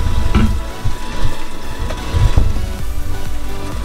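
Popcorn kernels pop in corn oil inside a spinning-kettle popcorn machine for cherry popcorn, a steady sizzling crackle with scattered sharp pops over a constant motor hum.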